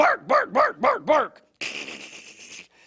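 A person imitates a dog barking with five quick, loud, evenly spaced woofs, followed by a short pause and then a brief, harsher sustained vocal noise.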